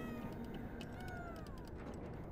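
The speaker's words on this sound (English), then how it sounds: "it's making cat noises because I died. It is a cat." A cat meows in the game Planet of Lana, a short drawn-out wavering cry heard over a dense, rumbling background.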